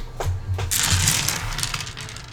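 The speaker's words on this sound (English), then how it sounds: "Just moving my dice." Dice rattling and clattering on a tabletop during a Dungeons & Dragons session, a short cluster of close, bright clicks and rolls with no talk over it.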